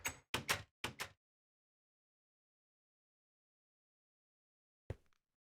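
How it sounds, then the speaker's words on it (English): Four quick, sharp clicking thuds of a door opening in the game GregTech New Horizons, a pause of near silence, then one more short knock-like click, all crisp and close. "That door's open."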